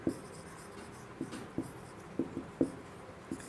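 Marker or chalk scratching out a definition on a classroom board during a physics lesson, a series of short, uneven strokes with brief pauses, fairly close and quiet, with no talking.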